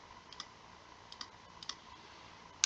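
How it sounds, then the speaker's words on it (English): Faint mouse clicks at a computer while setting up an RC plane, a few soft paired clicks spaced about half a second apart, then one sharper, louder click at the end over a quiet hiss. "But I'm going to click it again."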